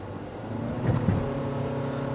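A 2018 Mitsubishi Outlander PHEV plug-in SUV pulls away from a stop under electric power, giving a steady close drone of motor and road noise that swells slightly midway, with no talking.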